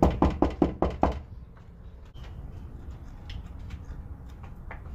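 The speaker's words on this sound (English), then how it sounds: "So we about to go bang on this door." Someone bangs on the door of a house, six loud, rapid knocks in a quick burst at the start, followed by quiet room noise with faint scattered small sounds.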